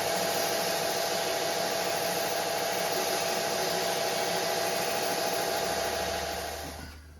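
A sander grinds steadily and loudly against wooden Assyrian bow tips, narrowing them in one continuous, unbroken rasp that tapers off near the end.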